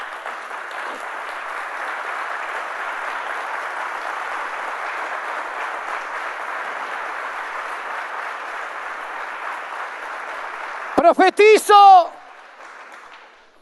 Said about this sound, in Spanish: Den un fuerte aplauso a Jesucristo.